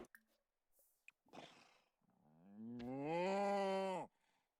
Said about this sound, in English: Our Highland cow.